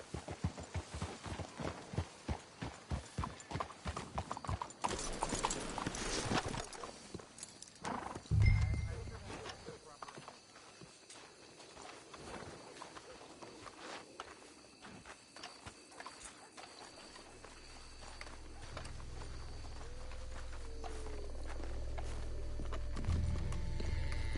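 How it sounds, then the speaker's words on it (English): Horses in a video game walk with steady rhythmic hoof clops that are close and prominent for the first several seconds, then give way to a low rumbling background. "Let's hitch the horses up ahead."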